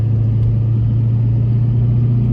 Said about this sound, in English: See, my truck is moving now.